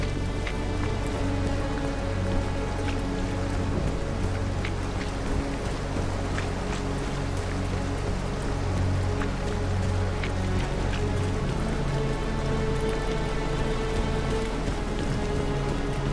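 Steady rain falls throughout in The Caribou Trail, a dense, even patter on surfaces with scattered heavier drops, continuous and close for the whole stretch with no talk.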